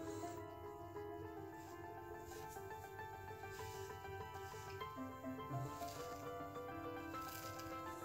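A safety razor blade at a shallow angle scrapes lather off skin in a close-up shave with Stirling Black Ice soap, giving a soft crisp rasp of repeated short strokes, quiet and intimate, with no talking.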